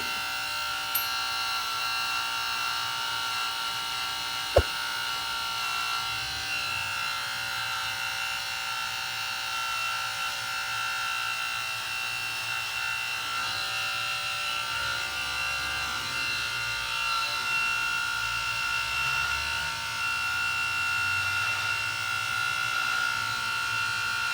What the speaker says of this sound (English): And this is the trimmer.